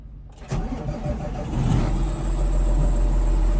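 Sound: tractor engine starting

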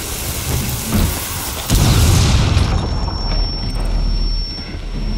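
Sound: bomb explosion in video game Rainbow Six Siege

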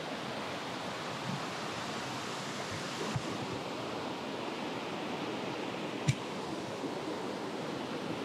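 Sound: waterfall in a mountain stream

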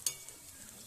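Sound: frying stuffed pointed gourd in pan

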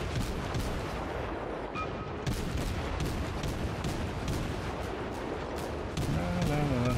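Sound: German cruiser guns firing in video game World of Warships

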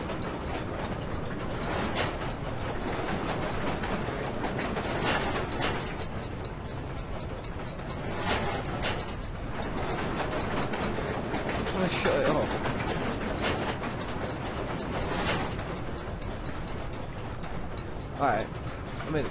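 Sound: noise machine running in video game Amnesia The Dark Descent

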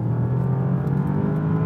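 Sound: Bentley Continental GT twin turbo V8 engine

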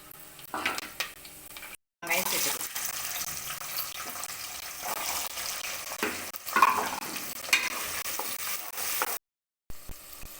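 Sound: cinnamon, cloves and curry leaves frying in oil

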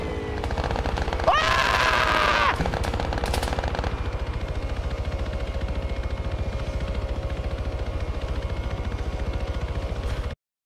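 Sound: attack helicopter approaching, video game Arma 3

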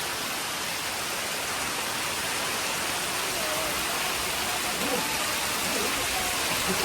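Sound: heavy rain with wind

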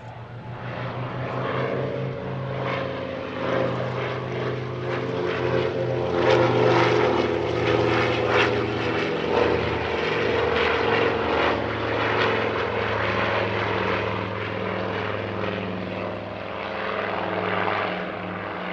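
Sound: Nord Noratlas transport aircraft flying at airshow

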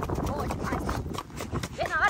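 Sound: horse hooves clip-clopping on a cavalcade ride

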